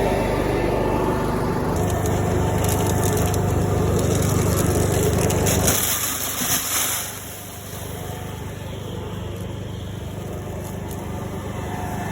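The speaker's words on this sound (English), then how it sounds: "The hydraulic motor runs the auger." A hydraulic motor on a tractor-drawn seed planter drives an auger that fills the planter with seed, giving a steady close mechanical drone with faint rattle that drops and eases off near the end.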